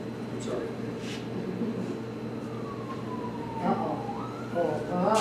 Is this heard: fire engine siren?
yes